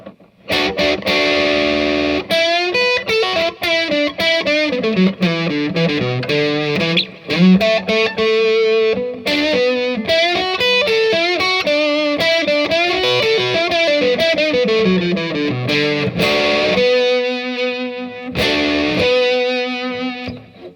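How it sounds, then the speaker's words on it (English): A heavily distorted electric guitar plays a melodic line from a second solo, with sustained notes and fast runs, delay echoes trailing behind, loud and continuous throughout. "lots of distortion or lots of gain and some delay"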